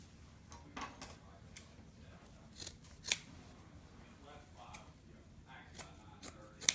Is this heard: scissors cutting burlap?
yes